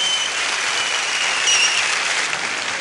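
Concert audience applauding to welcome a singer, a dense, steady wash of many hands clapping at full volume, with a brief swell around the middle and no break throughout.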